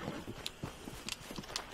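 Horse hooves during a ride in the Red Dead Redemption 2 video game, a quick, faint rhythmic clip-clop of several soft thuds with light jingling, brief and fairly distant.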